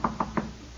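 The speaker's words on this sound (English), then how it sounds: "Soon the waiter was knocking at my door." Three sharp knocks on a door, a radio show sound effect, evenly spaced and close, followed by quiet.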